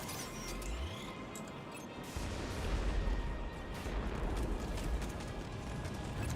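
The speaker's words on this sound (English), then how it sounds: "Torpedo gun," Heavy torpedo gun fire from a spacecraft in the space combat game Strike Suit Zero: Director's Cut, a dense rumbling blast that swells after the first two seconds and holds loud and continuous, with no talking over it.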